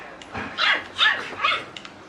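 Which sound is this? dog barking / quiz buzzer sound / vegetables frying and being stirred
dog barking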